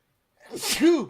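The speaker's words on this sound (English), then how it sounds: "My whole life, I've had sneezes that smell like honey" A single sharp human sneeze, close and loud, with a brief inhaled build-up before the burst.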